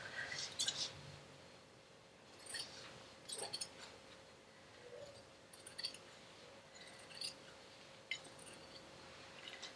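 Scissors snip through a strip of crafting felt in short, faint, crisp cuts spaced irregularly across a quiet room.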